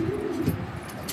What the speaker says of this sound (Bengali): একদম টপ কোয়ালিটির কবুতর, বিন্দাস কবুতর